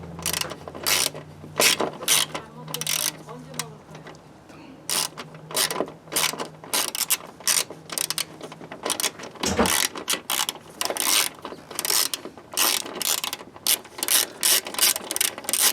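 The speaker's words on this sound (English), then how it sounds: "I'm just taking off this these two bolts because there's a sensor underneath" A hand ratchet clicks in repeated bursts while removing bolts underneath a Volvo S60 T5 during an AC condenser swap, with sharp, close pawl ticks and short pauses between strokes.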